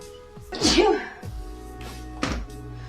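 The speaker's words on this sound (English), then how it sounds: "You're gonna hear me sneezing a lot, just saying." A single loud, close sneeze bursts out while spices and seasonings are being sorted in a kitchen, followed by a short breathy exhale and a quieter second sneeze-like burst.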